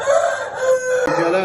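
A champion rooster crows close and loud, one full cock-a-doodle-doo with a rising, wavering call that breaks briefly before its drawn-out final note.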